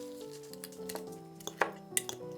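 Soft, overripe strawberries are mashed in a bowl, giving a few quiet squishy presses and light utensil clicks against a faint background tone.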